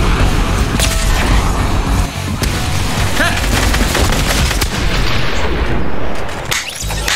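Dense, loud, continuous gunfire from a weapon in the video game Fortnite, rapid shots and impacts piling into a constant roar for several seconds before briefly easing near the end.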